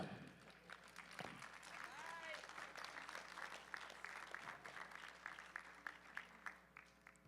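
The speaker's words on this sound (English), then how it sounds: "Give her one more round of applause for that." An audience at a powerlifting meet claps through an awards announcement, with a dense burst that then settles into scattered claps. An announcer's voice carries over parts of it.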